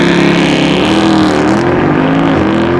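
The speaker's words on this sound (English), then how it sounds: "to put this car on launch control" A loud, close Mercedes W204 C63 AMG engine roaring hard under full launch-control acceleration, its pitch climbing steadily through a gear with a brief shift near the end.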